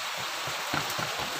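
Rain pours steadily over a porang plantation in the countryside, a dense hiss of drops with soft low patters and splashes close by, no voices present.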